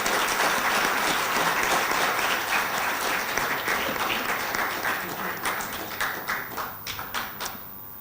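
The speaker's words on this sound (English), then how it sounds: "Let's give another round of applause to Dr." Audience applause after a speech at a sustainable development conference, a dense steady wash of clapping that thins into scattered, separate claps before fading out.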